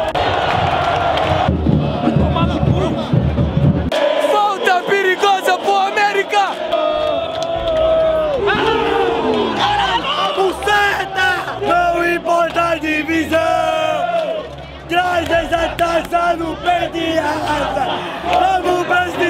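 América supporters in a stadium at a Série D final chant and sing together, a loud, dense wall of massed voices with rhythmic shouts that keeps going throughout.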